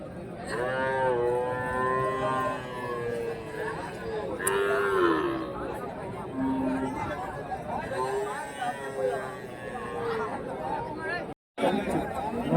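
Cattle moo repeatedly at the Karimangalam cattle market in Dharmapuri, with calves on sale, the long lowing calls rising over a busy crowd of people chatting nearby.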